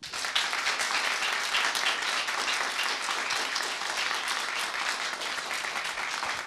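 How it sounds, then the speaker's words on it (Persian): Studio audience on a television talent competition show applauds continuously, a thick, even wash of many hands clapping at steady loudness throughout. "تشویق کنید."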